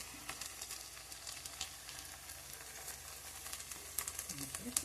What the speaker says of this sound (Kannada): ಈಗ ನಾನು 4 ಮೊಟ್ಟೆ ತೊಗೊಂಡಿದ್ಮೇಲೆ ಆ ಮೊಟ್ಟೆನ ಇದಕ್ಕೆ ಆ್ಯಡ್ ಮಾಡ್ತಾಯಿದ್ದೀನಿ